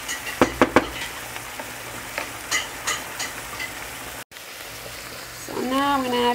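Wine sizzles and evaporates in a pan with an asparagus pasta sauce, a few sharp clicks early on over a soft constant frying hiss, with a brief vocal sound near the end.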